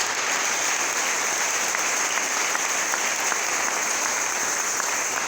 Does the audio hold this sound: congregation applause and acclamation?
yes